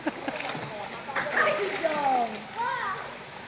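Water splashes and sloshes as people swim in a hotel pool, with continuous lively splashing and voices calling out nearby, including higher children's tones.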